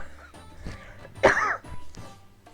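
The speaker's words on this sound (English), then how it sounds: "still have a bit of a cough" A lingering cough, a single short harsh burst near the middle of the clip, fairly close and alone, with a low room murmur around it.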